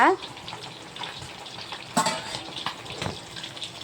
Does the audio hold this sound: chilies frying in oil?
yes